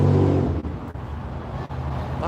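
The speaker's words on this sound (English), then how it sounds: "That must have been a dozen cars coming out." Several cars pulling out through the gates of an ICE facility during a protest in Portland, Oregon, a loud, steady close roar of engines and tires with brief dips as vehicles pass.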